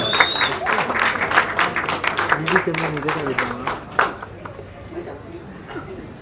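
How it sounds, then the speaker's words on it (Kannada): Loud applause from an audience at a news channel launch ceremony, a dense crackle of clapping that fades toward the end while a voice speaks over it. "ಬರೀ ಜೋರಾದ ಚಪ್ಪಾಳೆ"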